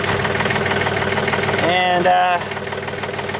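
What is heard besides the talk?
tractor engine idling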